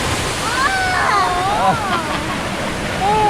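A water park waterfall at The Sands Khao Lak in Phang Nga pours in a steady, loud rush of splashing water, with excited voices calling out over it.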